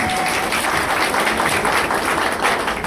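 Guests at a civil wedding ceremony in a town hall applaud, a dense, continuous burst of many hands clapping, fairly close and even throughout.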